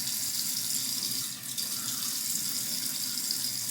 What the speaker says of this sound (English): Gonna get some water on the face.